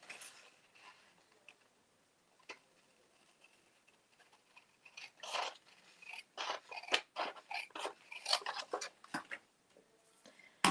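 Scissors snip through paper or card, trimming close along a red printed edge; sparse soft cuts at first, then a denser run of quick crisp snips near the mic, with no talking.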